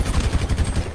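Gunfire in the video game GTA 5: a rapid run of loud, low, punchy shots in an almost continuous burst, with no talking.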